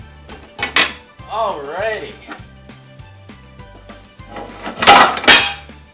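Clanking of a metal frying pan being taken from a cupboard, with cookware rattling and bursts of clatter between stretches of a person talking.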